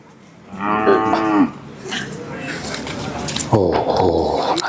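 Native cattle at a weekly cattle market moo loudly and close, two long harmonic calls about two seconds apart over steady crowd murmur and market noise.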